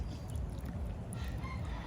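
Chickens cluck and murmur close by over a steady low rumble of outdoor background noise.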